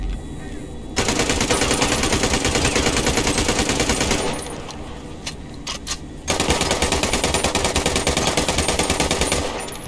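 K-2 rifle fire in a video game, loud rapid automatic bursts rattling steadily, broken by a short pause with a few single shots before sustained firing resumes.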